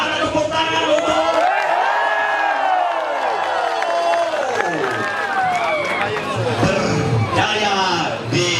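Crowd cheering and whooping for the winner of a PORA XIII road race in Jantho, Aceh Besar, a dense outdoor roar with shouts and whistles rising and falling throughout, loud and steady with people talking in the mix.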